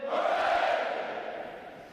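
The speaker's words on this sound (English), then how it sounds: "The adjutant will lead all graduating divisions in 3 cheers for this morning's award recipients." A crowd of graduating Navy boot camp recruits lets out one loud, massed shout of cheering that peaks quickly and then trails off, many voices together at a distance.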